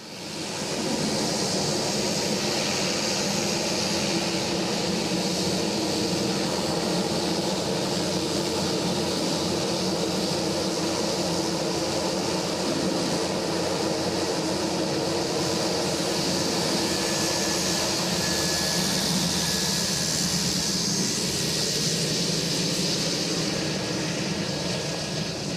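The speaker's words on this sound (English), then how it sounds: "The Royal Air Force sent over a Beechcraft King Air from 45 Squadron at RAF Cranwell." At the Malta International Airshow 2015, an RAF 45 Squadron Beechcraft King Air twin-engine turboprop flies past. Its loud, steady engine roar fills the whole stretch with a dense drone and no speech.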